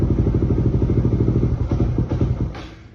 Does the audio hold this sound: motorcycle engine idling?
yes